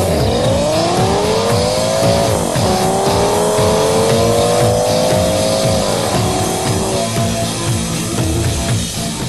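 Race cars, including a Chevrolet Corvette, roar around a track on a hot day, a loud continuous engine drone with pitch sweeping up and down as cars pass and shift, alone with no talk.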